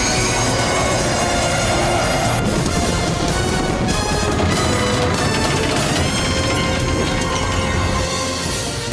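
A loud, continuous roar of an animated train being slowed by rocket thrusters, with grinding metal and rushing noise, heavy and unbroken throughout.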